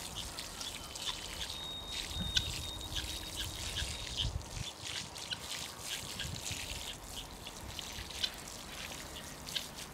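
Dugout water trickles steadily onto freshly transplanted celery in a garden, a continuous close splashing stream with birds chirping in the background.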